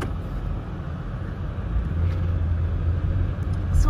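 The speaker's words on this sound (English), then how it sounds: "Actually, there is a car behind me, so I have to move on." A car moves along a snowy road close by, its low, steady engine rumble and tyre noise growing slightly louder toward the end, with no talking over it.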